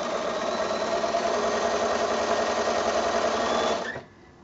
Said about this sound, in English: I find it easier to sew in this direction.